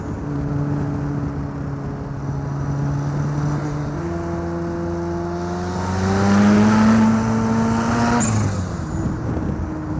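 A turbo rotary engine from an RX7 in a home-built Lotus 7 replica drones steadily from inside the car, then climbs in pitch and swells in loudness before bouncing at the rev limiter and dropping away.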